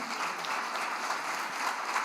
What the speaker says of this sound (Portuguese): A igreja pode aplaudir a Jesus pela vida do Daniel.